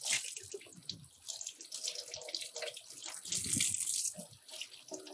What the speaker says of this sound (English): I'm going to soak them, squeeze it out.